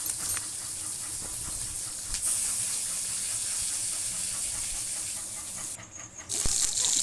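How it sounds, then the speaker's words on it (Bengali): Fish fries in a pan with a continuous close hissing sizzle that briefly drops away near the end before returning, and nobody speaks. "এই মাছটা ভাজা হলো।"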